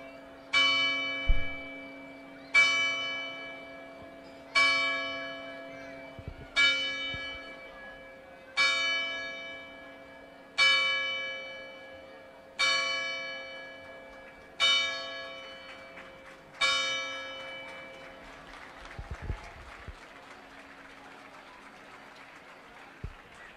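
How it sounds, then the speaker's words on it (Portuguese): A church bell strikes eight times in a slow, steady rhythm, each ring clear and resonant with a long decaying hum, followed by a fading murmur. "E toca o sino."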